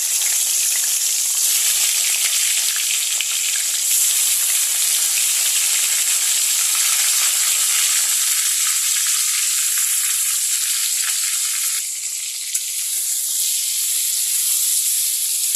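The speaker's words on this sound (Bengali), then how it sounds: "এখন এই কড়াইতে তেল আছে, এই তেলের মধ্যে আমি মাংসগুলোকে ফ্রাই করে নেব।" Chicken pieces fry in hot oil in a kadai over a high gas flame, giving a steady, loud, continuous sizzle and hiss with no talking throughout.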